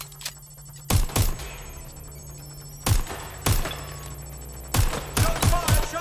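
Gunfire in the video game Watch Dogs Legion: loud, separate bursts of shots fire in short clusters over a steady low hum, with brief quiet gaps between volleys.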